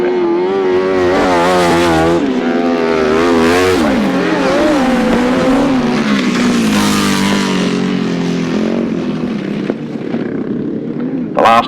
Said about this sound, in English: Gary Potter and Owen and Alex Bowman bringing up the rear on what I think is an Aprilia engine outfit.